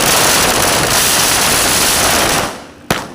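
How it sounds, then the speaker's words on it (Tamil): Firecrackers bursting at a political party celebration, a dense, loud, rapid crackling string of pops close by that runs for a few seconds, then cuts off into a single sharp bang. "பட்டாசு பிடித்து இனிப்புகள் வழங்கி கொண்டாடப்பட்டது"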